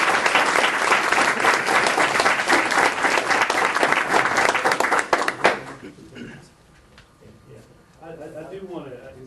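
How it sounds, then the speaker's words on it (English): Loud, dense audience applause for a school board member fills a Hoover, Alabama school board meeting for about five seconds, then cuts off abruptly. Quiet room tone and a voice follow. "let's give a round of applause to Mr."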